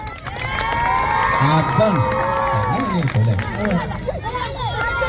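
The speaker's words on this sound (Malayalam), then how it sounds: "സൗണ്ട് വേണം ഒരൊറ്റ ഒന്നിന് കൈയടിച്ചാൽ മതി" Crowd clapping and cheering at an outdoor gathering in Areekode, a steady roar of applause and shouts with voices calling over it throughout.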